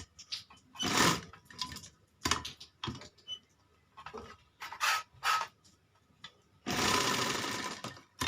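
Sewing machine stitching a child's kalidar (panelled) kurta along the base of the buckram, running in several short bursts of rapid needle clatter separated by pauses, with a longer steady run near the end; close and fairly loud.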